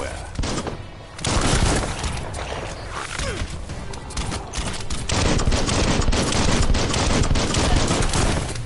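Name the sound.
gunfire in the video game Biomutant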